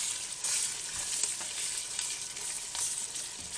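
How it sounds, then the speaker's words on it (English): Roux for gumbo cooking in a pot, giving a soft, steady sizzle with light stirring scrapes, close and continuous with no one talking. "as it's cooking, your roux is going to get a little bit darker as it's cooking"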